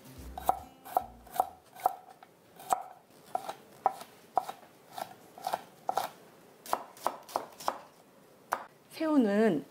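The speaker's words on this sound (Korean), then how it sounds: "윗부분은 이렇게 잘라서" Knife chopping green onion on a cutting board for a Chinese-style seafood pasta, a steady run of crisp, close taps against the board, alone, ending with a brief voice.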